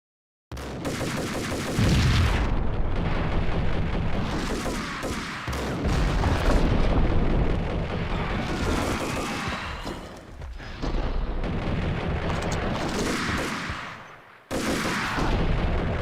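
Gunfire in the video game Max Payne, with loud dense bursts of shots rolling on for several seconds at a time, broken by brief near-silent gaps.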